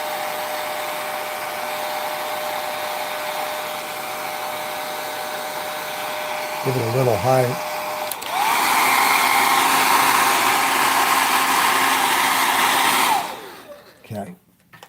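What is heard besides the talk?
hair dryer on low drying airbrushed acrylic paint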